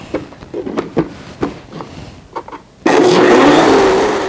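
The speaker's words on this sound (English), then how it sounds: "Add 2 cups of water and grind it again." A blender grinds black sesame seeds with water, starting abruptly after a few light knocks and clicks and then running loud and steady in a dense, whirring roar.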